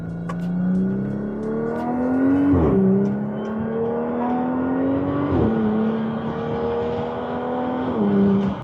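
Supercharged 400 hp Audi S4 engine pulling through the gears from the cabin with windows slightly open, a strong rising drone broken by three quick shift drops, loud and continuous with no talking.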